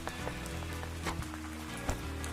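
Steady rain falls in a Peanuts cartoon, a continuous hiss with occasional louder drops, under background music.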